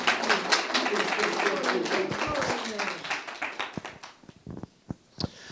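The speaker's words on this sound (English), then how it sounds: "everybody, big round of applause." An audience claps for a musician, a dense burst of applause that thins into scattered claps, with a host's voice speaking over it.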